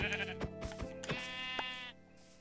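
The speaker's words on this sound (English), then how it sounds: "There's one sheep. There's two sheep, okay." Sheep in the Minecraft video game bleat several times in quick succession. The short, wavering cries are up close and clear over faint background sound, with no talk.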